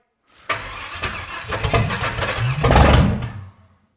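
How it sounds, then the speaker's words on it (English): A 1955 Buick Special, abandoned since 1968, cranks and catches, its engine firing in uneven bursts before roaring up loudly near the end, then cutting off. "The old Buick soars to life."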